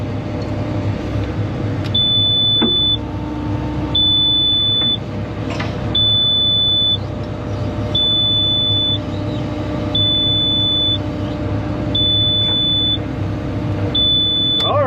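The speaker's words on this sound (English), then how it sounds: "Enough of the beeping." An electronic beep sounds at regular intervals, about one short tone every two seconds, repeating steadily over a low background hum.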